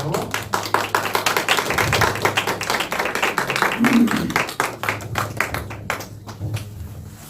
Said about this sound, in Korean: 나오실 때 박수로 환영해 주세요